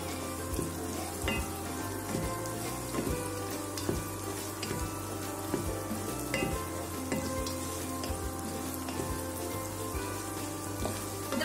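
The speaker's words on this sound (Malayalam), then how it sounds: "നമുക്ക് ഈ ഒരു സവോള ഇതിനകത്തേക്ക് ഇട്ട് കൊടുക്കാം. സവോള ഒന്ന് വഴുത്ത് വരട്ടെ." Onion frying in a pan for a vegetable palak biryani, a dense continuous crackling sizzle with scattered pops and occasional stirring clinks, close and steady throughout.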